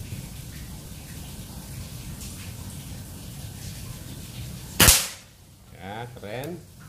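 One sharp shot from a Mouser Monel 4000 PSI air rifle breaks a quiet outdoor background, followed shortly by a brief voice.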